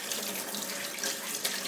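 Running tap water splashes steadily onto a juicer being rinsed, a soft, continuous hiss and patter at close range.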